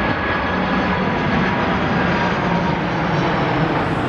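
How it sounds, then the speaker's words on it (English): Airplane flying low near an airport, a loud, steady roar of engine noise filling the whole moment without a break. "Oh, there's an airplane."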